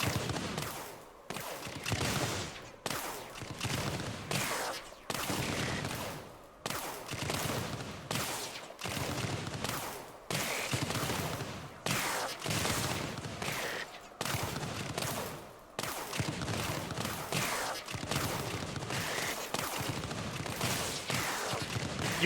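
Pulse ray and blast cannon towers fire continuously in the Axon TD: Uprising video game, a dense, loud barrage of rapid blasts and zaps with brief dips, no voices.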